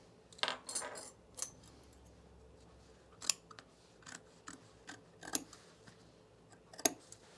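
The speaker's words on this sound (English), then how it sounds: "I'm going to get it started with my seam ripper" A handful of sharp, scattered snips and clicks, close and fairly quiet, with pauses between them, as a seam ripper cuts through fabric threads.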